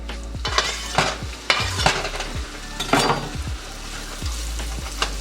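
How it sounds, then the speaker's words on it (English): Finely diced sweet onion and three cloves of minced garlic sautéing in a pan, a soft sizzle under repeated clacks and scrapes of a utensil stirring against the metal, close and unaccompanied. "I'm just gonna sweat these down until they become translucent"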